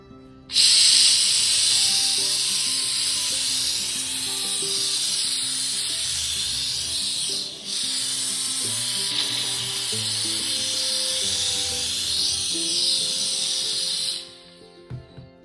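Bissell Steam Shot handheld steam cleaner fed with distilled water, blasting grout lines: a loud, steady broadband hiss that runs nearly unbroken for about fourteen seconds with one brief dip, then cuts off, with no talking.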